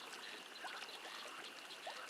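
Gentle trickling, bubbling water from the 7 Days to Die survival game while crouching in a stream, a steady soft flow with small splashy blips, quiet and continuous with no talk.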